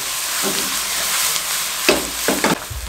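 Crushed garlic fries in a pan for a garlic chutney, giving a steady close sizzle and hiss with a few louder crackling bursts as it is stirred.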